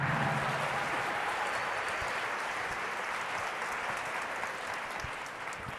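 An audience claps steadily and densely for a guest coming onstage at a Dell-hosted talk event, the applause easing slightly toward the end.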